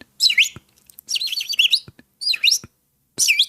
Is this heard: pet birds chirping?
yes